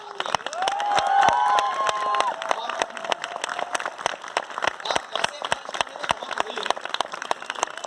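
An audience at a business motivational event claps in a sharp, rhythmic unison beat, loud and regular, with a brief tonal musical or vocal swell early on beneath the claps.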